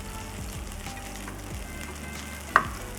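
A barramundi fillet frying skin-side down in a pan, a steady crackling sizzle with occasional low scraping, ending in one sharp clack, close and fairly quiet.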